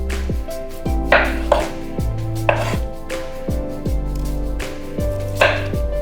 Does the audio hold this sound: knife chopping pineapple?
yes